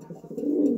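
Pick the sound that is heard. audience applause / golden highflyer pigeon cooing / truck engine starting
golden highflyer pigeon cooing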